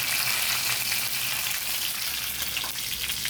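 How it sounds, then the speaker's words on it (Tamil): Crushed garlic sizzles steadily in a hot pan, a loud, constant frying hiss with faint crackles and no voices over it. "பூண்டு சேர்த்து பூண்டு நல்லா கொஞ்சம் வதக்கி வரட்டும்."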